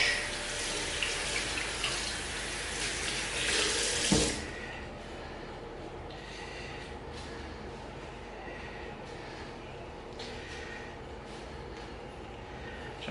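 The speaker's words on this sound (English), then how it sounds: "I'll just quickly rinse that brush out so you can have a look at the brush." A shaving brush is rinsed under a running tap, a loud hissing gush of water for about four seconds, then a quieter trickle with soft splashes and drips as the brush is worked, close up and with no talking.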